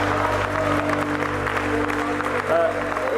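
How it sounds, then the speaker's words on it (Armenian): An audience at a live comedy show applauds a contestant, a steady wash of clapping holding at even loudness for a few seconds, with a faint low hum beneath. "եկեք ծափարենք եւ շնորհավորենք Տիգրանին"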